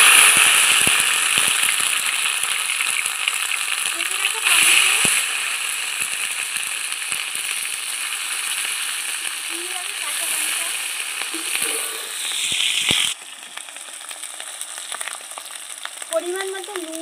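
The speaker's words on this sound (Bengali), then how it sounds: "কড়াইয়ের তেল গরম হয়ে গেছে, সামান্য একটু হিং দিয়ে দিচ্ছি, গোটা জিরে, গোটা গরম মশলা, আদা বাটা দিয়ে দিচ্ছি" Whole spices and ginger paste hit hot oil in a wok, with asafoetida, cumin seeds and garam masala, giving a steady loud sizzle and crackle that runs throughout, with occasional stirring clinks and no talk.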